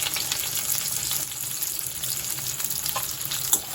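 Chopped onions hit hot oil in a pan and fry with a continuous bright sizzle, a few stirring scrapes and one sharper clink near the end, with no one talking.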